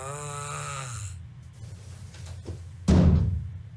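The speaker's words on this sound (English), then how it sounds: "How does that stop the snoring?" Loud, close snoring, a single drawn-out rasping breath, followed by a few soft knocks and then a heavy thump against a wall.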